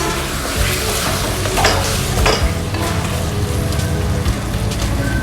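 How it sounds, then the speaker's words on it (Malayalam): Onions for chicken biryani frying in a pan and being stirred, with a loud, dense, continuous sizzle like heavy rain and scattered scraping from the stirring. No one speaks. "ഉള്ളി നമ്മൾ നല്ലോ മൂത്തയക്കണം കേട്ടോ"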